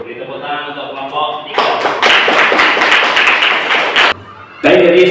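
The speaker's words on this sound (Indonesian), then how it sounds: "Beri tepuk tangan untuk kelompok" A classroom audience applauds a student presentation group, with a burst of clapping that swells and holds for a few seconds, drops out briefly, then resumes loudly. A voice speaks just before the clapping starts.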